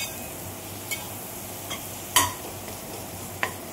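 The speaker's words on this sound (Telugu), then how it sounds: "మళ్ళీ దాని స్మెల్ పోయేంత వరకు ఫ్రై చేసుకోవాలి బాగా" Ginger garlic paste fries in a pan while paneer biryani is cooked, making a steady low sizzle broken by a few sharp clinks of a spoon against the pan, with no voices.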